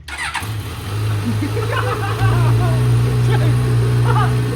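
An engine fitted with a $30 Temu exhaust on a dyno fires up and idles at a steady, loud, buzzy drone, with people talking over it.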